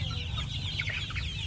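Chickens clucking softly at a distance, with short chirpy calls over a steady low hum of background noise.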